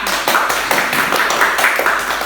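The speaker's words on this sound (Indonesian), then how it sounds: "Beri tepuk tangan untuk kita semua." Close, loud clapping from students in a physics classroom, a handful of hands beating in a fairly regular rhythm of separate sharp claps rather than a dense crowd.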